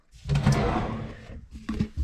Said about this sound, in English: You put your drawer in at an angle like this.